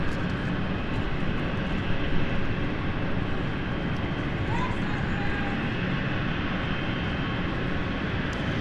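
City Flyer airliner taxiing toward runway 04 at London City Airport, a steady broadband engine rumble filling the whole stretch at moderate distance, with faint talk in the background.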